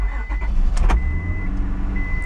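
A 2003 Honda Odyssey engine cranks briefly and catches close by, then settles into a low idle with a faint high whine.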